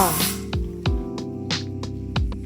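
A handheld bidet spray gun in a remodeled bathroom lets out short hissing bursts of spray, one at the start and another midway, over tonal background music.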